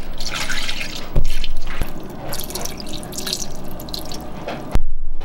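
Two cups of almond milk pour into a container in a steady liquid stream, with small splashes and drips and a couple of sharp knocks from the measuring cup, heard close and alone without talk.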